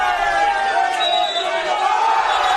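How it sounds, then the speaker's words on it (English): A football crowd at a National Premier Leagues match between South Hobart and Kingborough Lions voices displeasure at a foul, with a sustained mass of jeers and shouts and a commentator talking over it. "The crowd does not like it."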